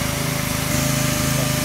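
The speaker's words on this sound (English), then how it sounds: "Generator chalaye." A GE 3000 P portable generator engine runs at a steady, loud idle, a close, even mechanical drone with a constant pulsing hum and no voices.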